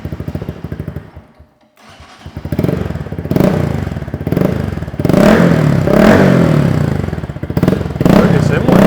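Honda Grom motorcycle fitted with a replica aftermarket exhaust, the engine cutting out briefly then firing and revving loudly in rising, throbbing bursts, close by.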